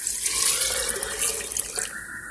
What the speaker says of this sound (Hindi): करीब आधा जग पानी डाल रही हूँ फिलहाल।